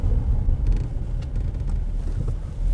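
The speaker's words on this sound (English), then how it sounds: "Oh, burn some rubber. Harsh acceleration detected." A car is driven hard with harsh acceleration and braking, giving a steady, loud low engine and road rumble throughout, heard from inside.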